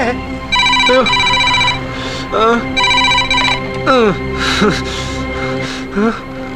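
A telephone rings in repeated electronic bursts while people talk in between and over the rings.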